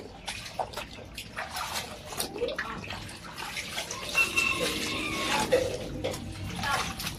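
Tap water runs steadily into a basin while cooking pork outdoors, a continuous wash of flowing water with faint background voices and clatter throughout.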